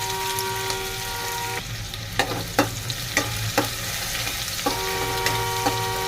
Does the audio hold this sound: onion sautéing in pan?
yes